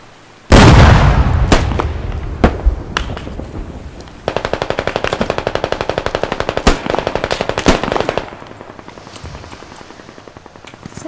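Gunfire in the video game Squad opens with a loud blast and single shots, then a long rapid machine-gun burst, with scattered sharp reports continuing afterward.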